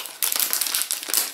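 A packet of pre-cut paper pieces crinkles up close as a piece is pulled out, a short loud rustle with no talking.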